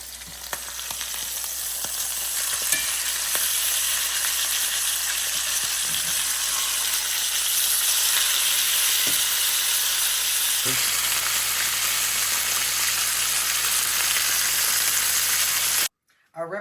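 Ribeye steak searing in a cast iron pan, a loud, dense, continuous sizzle and hiss that holds steady throughout, with occasional light clatter and a change in tone near the end.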